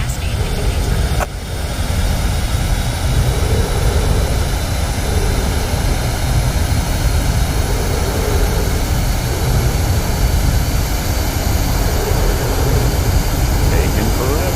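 A Messerschmitt Me 262 jet in a flight game runs at full throttle for takeoff, its engine a loud, constant roar with a steady whine layered above. A voice talks over it.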